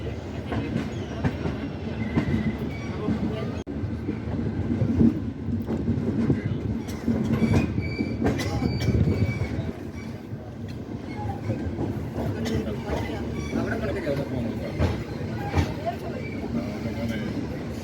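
The Howrah Jodhpur Express rumbles and clatters steadily along the rails, heard from inside a carriage, with voices talking under the continuous noise.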